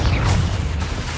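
Confringo fire spell blast in the video game Hogwarts Legacy, a short dense rumbling burst with a boom at the start, loud and close throughout about a second.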